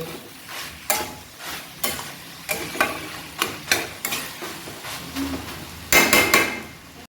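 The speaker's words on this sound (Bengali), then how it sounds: "এবার ভালো করে মশলার সাথে মোচাটা কষে নেব" Mashed banana flower is stir-fried with spices in a pan. A spatula scrapes in repeated strokes roughly once a second over a soft sizzle, ending in a quick flurry of clinking scrapes.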